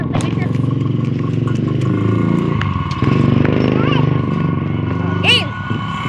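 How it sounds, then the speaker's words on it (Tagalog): A motorcycle engine hums nearby and rises as it passes, partly under children's and adults' voices chattering in a casual outdoor setting. "Oh, may motor."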